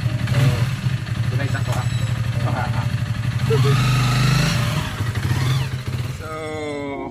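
A motorcycle engine idles and revs close by, a steady throbbing rumble rising briefly, with someone speaking over it.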